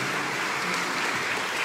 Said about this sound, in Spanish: Un aplauso para los compañeros.